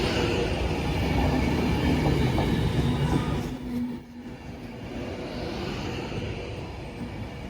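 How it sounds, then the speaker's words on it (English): A train rumbles steadily along the rails, loud and close, then the noise dips briefly before a lighter rolling rumble carries on. "here's our next train"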